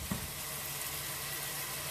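Tomatoes, onions and pepper simmering together in a pan for paella, giving a steady, even sizzle throughout with a faint low hum underneath and no voices.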